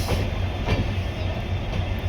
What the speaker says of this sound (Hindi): ये है रणकपुर एक्सप्रेस